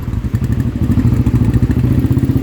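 A 2006 Royal Enfield Bullet 500cc ES motorcycle with a freshly rebuilt engine, its loud, close single-cylinder thump beating in a steady, rapid rhythm while riding.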